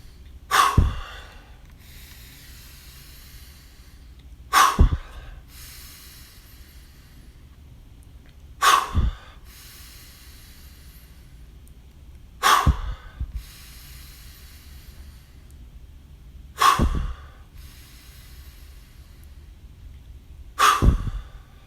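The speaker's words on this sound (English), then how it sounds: "Breathing in deeply, breathing out faster." Six deep breaths taken during a stress-relief meditation, each a loud, airy inhale-exhale burst spaced about four seconds apart, close to the microphone, with quiet gaps between and no talking.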